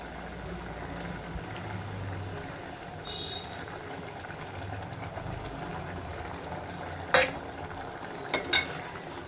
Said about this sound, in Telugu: మనం ముందుగా చేసుకునే ఎగ్స్ ఉన్నాయి కదా ఇవి ఒక్కొక్కటిగా వేసుకుంటున్నాను